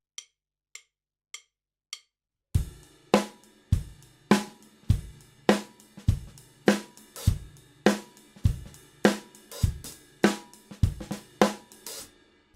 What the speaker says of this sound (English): I would get a hi-hat lift. Sounds like this.